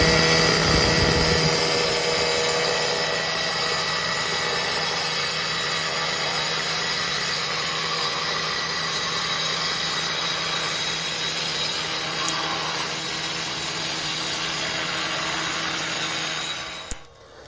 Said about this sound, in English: he'll fire up the petrol saw and start cutting